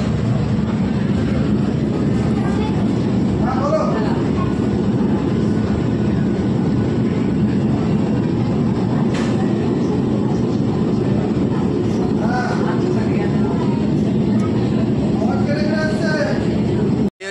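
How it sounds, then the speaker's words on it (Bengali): A metro train pulls into Dakshineswar station with a steady loud rumble and rolling hum, heard from inside the carriage with faint voices in the background. "এই দক্ষিণেশ্বরে ঢুকছে আমাদের ট্রেন এখন,"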